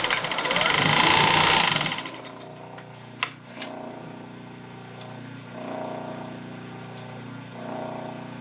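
A sewing machine runs a short burst of stitching on a small test seam of fabric for darts and bias binding, loud and close for about two seconds, followed by a few clicks and handling sounds in a quieter room.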